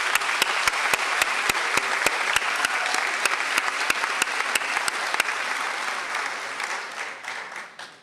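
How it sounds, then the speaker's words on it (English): A graduation crowd at a high school ceremony applauds the staff in a steady, dense wash of clapping that fades over the last seconds, with some sharp clicks over it. "Let's give them a round of applause."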